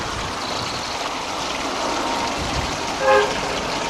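A train passes at a distance near Buckden and the Offords on the Great North line, a steady broad rumble with a brief horn-like tone near the end.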